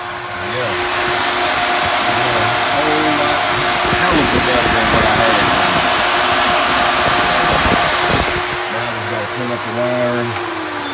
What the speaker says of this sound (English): That's all from the fans.